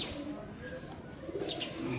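Foreign-breed pigeons in a rooftop farm shed give soft, low cooing close by, with a few light chirps and faint background rustle.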